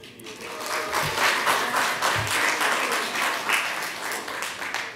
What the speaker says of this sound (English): the guy thrives on applause, so give him another round